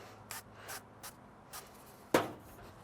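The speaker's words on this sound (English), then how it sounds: "I'll give them a light spray." Several short hissing bursts of cooking oil spray onto chicken wings on a pellet grill, spaced out irregularly, ending with a slightly louder spritz, close up in a quiet space.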